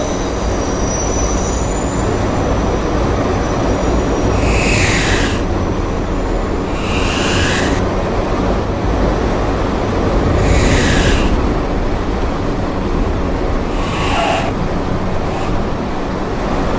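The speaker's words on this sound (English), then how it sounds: "This is a Catlin-bound E-train via the B line." An R160C subway train runs along an elevated-style line, a steady loud rumble of wheels and motors with periodic brighter squeals and rattles recurring every few seconds throughout.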